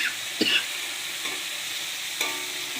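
Fish curry sizzling in hot oil in a pan, a steady frying hiss with a few soft scrapes of stirring, close and moderately quiet, no talking.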